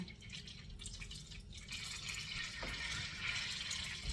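Water in butter crackles and sputters steadily in a hot pan of butter and peanut oil, with broadband hiss rising in the second half, continuous and fairly close.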